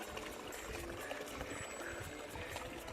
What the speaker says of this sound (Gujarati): જ્યાં વરસાદ જ નથી વરસતો ત્યાં વહેતું પાણી ભાઈ.